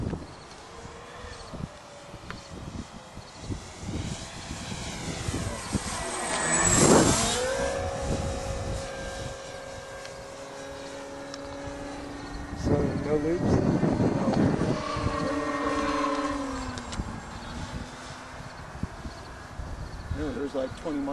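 An electric Hanger 9 Twin Otter RC model airplane on its maiden flight whines overhead, its motor pitch rising and falling as it passes close by twice, with people talking throughout.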